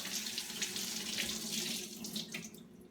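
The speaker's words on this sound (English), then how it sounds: "I've rinsed the fish with water, tap water" A whole pomfret being rinsed under a kitchen tap, with a steady stream of running water splashing into a sink for the full three seconds, close and continuous with no talking.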